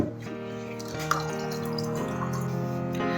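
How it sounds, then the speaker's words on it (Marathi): A child filling a water bottle, with water running and trickling steadily into the container and a resonant tone building over a few seconds. "पाणी बॉटल स्वतः भरतोय"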